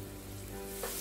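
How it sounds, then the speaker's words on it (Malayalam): Ginger garlic paste hits hot oil for a Kerala-style mutton roast, giving a steady close sizzle and crackle that swells briefly near the end of a short burst. "Oil ചൂടായതിലേക്ക് 1 table spoon ginger garlic paste ഇട്ട് കൊടുക്കുക."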